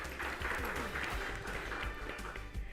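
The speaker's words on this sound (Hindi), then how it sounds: "जोरदार तालियां हो जाए।" Audience applause at a Hindi quiz event, a steady wash of clapping held at an even level throughout, with faint voices mixed in underneath.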